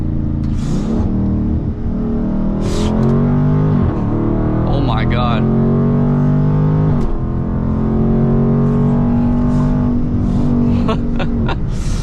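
A Dodge Charger Scat Pack's engine blips and surges through repeated downshifts, deep harmonic revs rising and falling in loud bursts from inside the cabin on a warm day, with a person exclaiming over it partway through.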